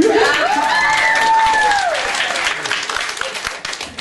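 Audience applause and light cheering fill the clip: a dense, steady burst of many hands clapping that slowly thins out, with a few whoops over the top.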